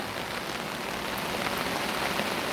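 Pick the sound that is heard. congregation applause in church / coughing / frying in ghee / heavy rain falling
heavy rain falling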